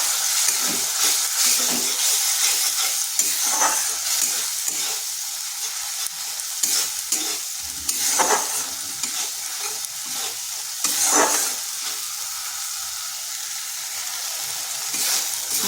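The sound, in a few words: spice paste being stirred and fried in a wok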